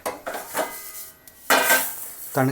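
Roasted ingredients, likely groundnuts and spices for a curry powder, are tipped from a pan onto a plate with a few clinking, scraping clatters of metal cookware and utensils, close and fairly loud, with no talk.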